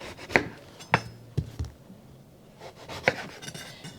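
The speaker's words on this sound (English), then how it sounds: "you want to cut off either end" A knife chops through the ends of an eggplant on a wooden cutting board, giving a few sharp, close knocks spaced apart with light rubbing and scraping between them and no talking.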